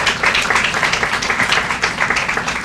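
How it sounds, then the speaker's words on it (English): An audience at a groundbreaking ceremony applauding, dense steady clapping from many hands throughout, close and fairly loud, with no talking. "Can we give them a round of applause?"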